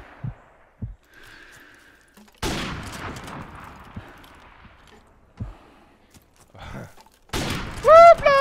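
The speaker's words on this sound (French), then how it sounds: "ça joue au snipe, ça joue au snipe, ça joue au snipe" Sniper rifle shots in a French 1v1 online shooter match: a few sharp, loud cracks with decaying tails spread across the clip, separated by quiet gaps and softer game noises, with a voice talking near the end.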